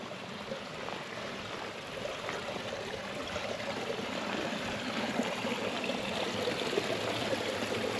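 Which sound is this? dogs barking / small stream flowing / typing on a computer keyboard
small stream flowing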